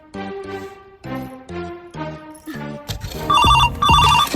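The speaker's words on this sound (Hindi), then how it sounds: "अहाँ के फोन आयल है" Phone ringtone ringing in repeated short melodic bursts, loud and close, growing busier and denser toward the end.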